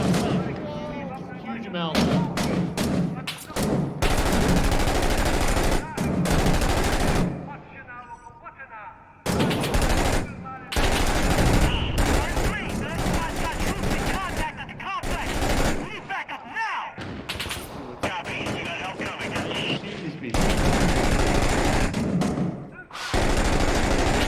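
Bursts of M249 SAW machine gun fire in the Six Days in Fallujah game, loud and sustained with brief gaps and a short lull, broken by other gunfire and blasts as people talk over it.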